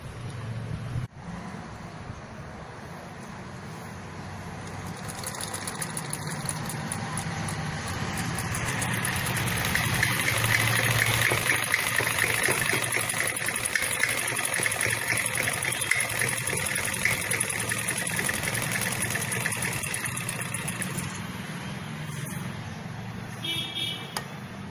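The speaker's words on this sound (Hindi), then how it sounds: "अब इसकी सिलाई निकाल के दिखा रहा हूँ आपको" A domestic sewing machine stitches fabric after its thread is reset at the back, running with a steady, continuous mechanical whir at moderate level that swells slightly midway, with no talking.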